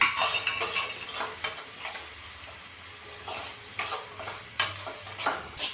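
A spoon stirs tomato, chili and asafoetida paste into a hot pan, with repeated clinks and scrapes of metal on the pan over a soft sizzle, close and fairly quiet.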